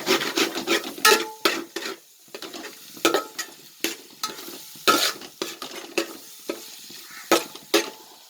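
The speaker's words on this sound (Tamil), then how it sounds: "இஞ்சி பூண்டு சேர்த்தாலே நம்ம வந்து பக்கத்தில் இருந்து கிளறிட்டே இருக்கணும்" Ginger garlic paste fries in a pot while a spoon stirs it steadily, with repeated scraping strokes over a soft sizzle, close and fairly loud, and no talk.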